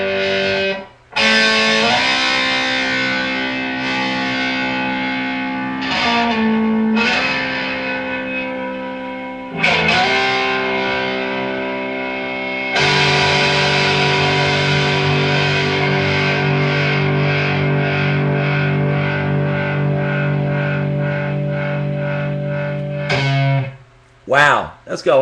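Electric guitar played through a small Supreme amp with heavy distortion, long sustained chords ringing for several seconds with brief gaps between strums, loud and close.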